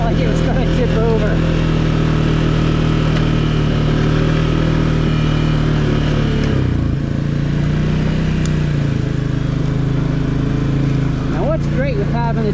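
Can-Am Outlander Pro HD7 XU ATV engine droning steadily while riding, with the pitch dipping and rising as the throttle is worked, loud and continuous with someone talking over it throughout.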